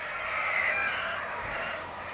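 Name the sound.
rooster crowing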